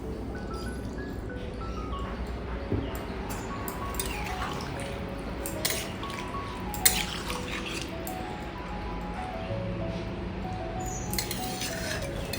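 Leftover boiled vegetable water is tipped into a pan of simmering shukto, a Bengali vegetable dish, producing a continuous close, liquid pour with a few soft splashes and faint tonal background sounds.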